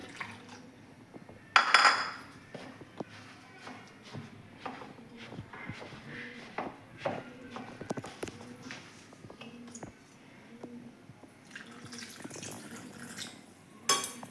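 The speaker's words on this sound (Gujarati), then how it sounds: "હવે આપણે આની અંદર પાણી એડ કરીશું." Water is poured in small amounts into vegetable handvo batter made from homemade flour and yogurt. Faint splashes, trickles and light clinks of a bowl and spoon come in quiet bursts against a near-silent background.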